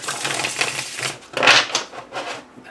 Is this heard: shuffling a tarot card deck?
yes